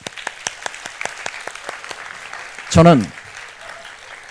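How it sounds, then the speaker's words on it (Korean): Congregation applause in a church during a Sunday sermon: rapid claps scattered through the first half, then a voice speaks briefly and the clapping fades beneath him. "정말 하나님 앞에 영광의 박수 한번 올려드립니다"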